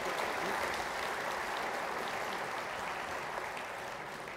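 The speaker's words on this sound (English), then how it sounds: "Let's put our hands together again for the panelists." An audience at a memorial lecture applauds the panelists with a continuous, dense roar of clapping from a large hall, steady and even throughout without any break.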